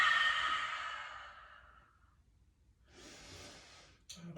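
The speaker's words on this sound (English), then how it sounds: "As you exhale, I want it to be so loud that the neighbours are wondering what the hell's going on." A loud, breathy exhale during a vinyasa yoga flow, sustained for about two seconds and fading out, followed by a softer second breath and a brief rustle.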